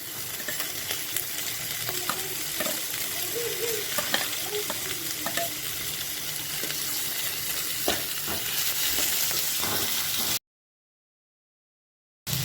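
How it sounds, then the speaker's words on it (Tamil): Onion and tomato sauté in hot oil in a pan, a steady close sizzle with scattered scraping stirs, then a sudden cut to silence near the end. "இந்த வெங்காயம் நல்லா ப்ரௌன் கலரில் ஆகிற வரைக்கும் நம்ம நல்லா வதக்கிக்கலாம்."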